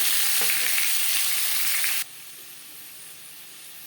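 Pumpkin and cauliflower stalks fry loudly in a pan as they are stirred, giving a dense hissing sizzle that drops abruptly to a much quieter simmer halfway through.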